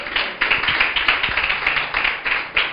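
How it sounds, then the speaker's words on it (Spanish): A church congregation claps together in quick, dense rhythmic bursts. The clapping stays loud and steady and no one speaks over it. "Aplauda al Señor en su valor"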